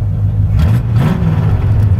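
A deep, loud Corvette C3 V8 engine with open exhaust rumbles steadily up close, a throaty low exhaust note holding at a constant idle-like roar.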